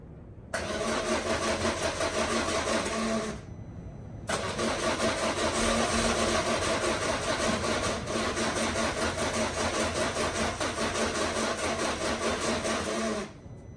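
A Land Rover Discovery 200TDi diesel engine cranks over in two long, steady bursts, the starter churning loudly with a short pause between attempts and no catch into running.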